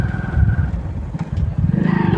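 A motorcycle engine idles and putters steadily up close as the bike pulls in to park beside a Yamuna riverside temple in Prayagraj, dipping briefly before the rumble picks up again.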